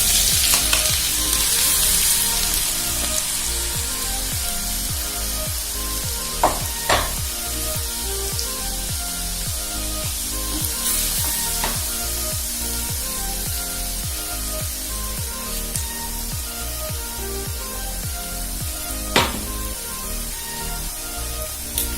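Crushed ginger and garlic fry in hot oil, a loud, constant sizzle with repeated rhythmic scraping strokes as the mix is stirred, plus occasional sharper clicks and pops.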